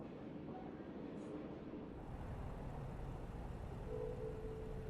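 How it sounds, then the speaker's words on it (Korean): Train rumbling past in the truck-delivery video game Easy Delivery Co., a steady low rolling roar that swells slightly as it goes by, heard alone without talk. "기차 소리가"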